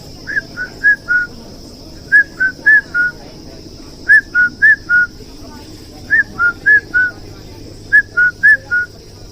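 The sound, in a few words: whistled imitation of a bird call heralding kafal fruit ripening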